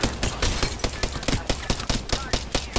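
Rapid automatic gunfire in Apex Legends, a rhythmic string of sharp close shots at a steady pace filling the whole moment, loud and alone.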